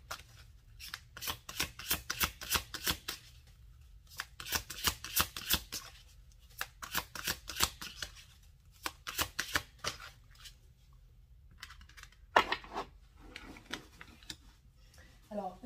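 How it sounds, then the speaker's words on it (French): A deck of tarot cards shuffled for a card draw, with repeated bursts of quick riffling flicks in rhythmic clusters, close and crisp, and a voice speaking briefly near the end. "un conseil que je vais vous faire, un tirage d'une carte conseil"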